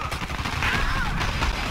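Rapid automatic gunfire in the online shooter Dirty Bomb, a dense burst of cracking shots close by over a short stretch, with faint game clutter beneath.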